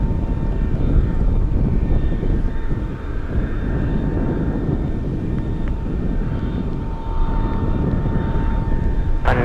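Atlas cargo aircraft pushing back at Anchorage airport on a gusty day: a loud, continuous broadband engine and ground rumble with a faint steady whine, unbroken and even throughout.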